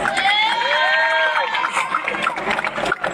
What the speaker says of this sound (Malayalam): എല്ലാവരും അവരെ കൈയടിച്ച് പ്രോത്സാഹിപ്പിക്കുക.